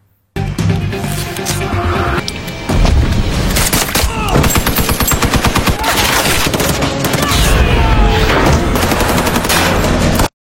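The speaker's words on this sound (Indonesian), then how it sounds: "baku tembak pun terjadi" A film shootout explodes into rapid bursts of automatic gunfire and heavy single shots, loud and close, layered with booms and a grenade blast in a chaotic firefight.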